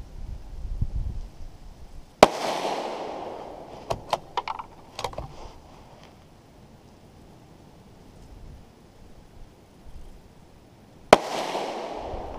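Two sharp, loud cracks from a Tikka T1X .17 HMR rifle fired outdoors in wind, spaced several seconds apart, with some smaller clicks and handling noises in between.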